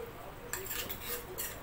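A lid set onto a cooking pot of dal khichdi after tempering is poured in, giving a few light metallic clinks and a brief clatter close by, with no talk.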